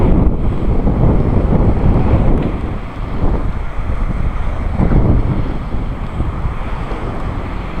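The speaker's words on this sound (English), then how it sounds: "Everywhere, wind's blowing." Strong coastal wind buffeting the microphone near the sea, with loud continuous roaring gusts and surf-like rushing that swell and ease throughout, no voices.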